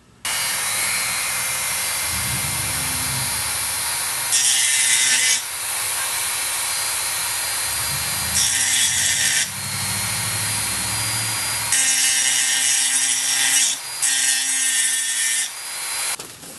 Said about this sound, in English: Using a Dremel tool to grind it off